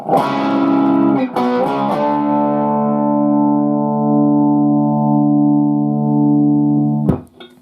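Slow run-through of a section of a song on a distorted electric guitar: a few quick chord changes, then one long sustained chord ringing for several seconds before a muted scrape.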